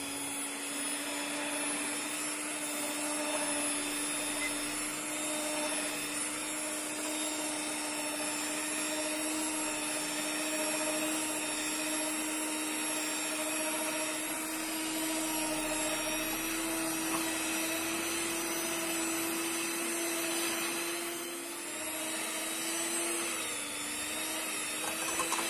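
An electric mixer kneads donut dough in a bowl, giving a steady high-pitched motor whine with a constant drone that runs unbroken throughout, close and fairly loud, with no talking.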